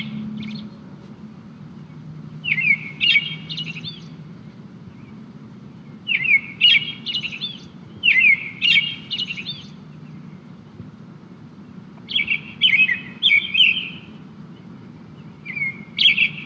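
A common early-spring songbird sings repeated phrases of clear, bright whistles and notes in several bursts separated by pauses, standing out above a low steady background hum.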